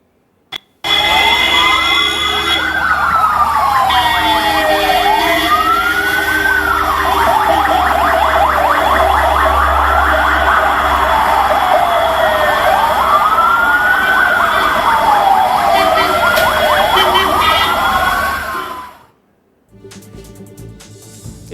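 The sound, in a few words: sirens of a long line of ambulances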